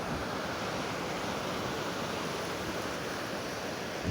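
Steady broadband roar of Mediterranean surf washing onto the shore at Ashdod, Israel, continuous and fairly loud with no voices, like waves breaking close by.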